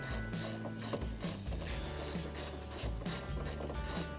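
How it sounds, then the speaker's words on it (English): Ratchet wrench retightening the battery hold-down plate fastener on a 2007-or-later Chevrolet Suburban, Tahoe or GMC Yukon, giving a steady run of rapid mechanical clicks with brief pauses between strokes, close up and alone. "Now we can replace the battery's hold-down plate. and retighten the fastener."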